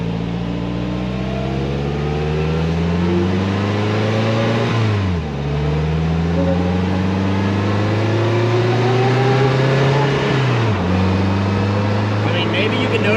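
A 2020 Polaris Slingshot R pulls away and climbs through the gears, its engine pitch rising steadily and then dropping sharply at two clear upshifts, with wind noise loud over the open cockpit.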